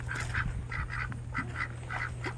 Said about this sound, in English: Oh, there's ducks.